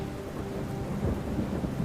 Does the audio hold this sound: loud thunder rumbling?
yes